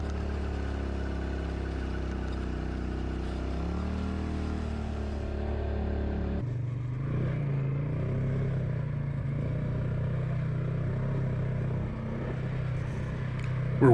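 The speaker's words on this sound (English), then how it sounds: "this is his 850 Polaris Sportsman. Difference in engines, just to kind of give you so you can hear the difference in the engine here" Polaris Sportsman 850 ATV engine running on a trail, a steady, low, fairly faint drone that shifts in tone midway and keeps going without a break.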